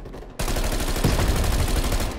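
In Call of Duty Black Ops Cold War, an AC-130 gunship cuts in abruptly with loud, sustained rapid cannon fire, a dense rattling barrage that rolls on steadily after quiet ambience.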